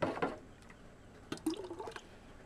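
Tomato juice splashes and trickles close by into an electric tomato strainer in a few short pours, with soft dripping and gurgling in a quiet room.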